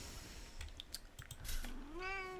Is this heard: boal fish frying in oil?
no